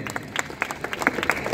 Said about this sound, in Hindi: जोरदार ताली तो बनती है।